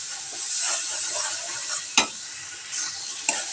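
Ground spices frying and being stirred in a pan while cooking liver bhuna, a steady close sizzle with scraping stirs and a couple of sharp utensil clicks against the pan.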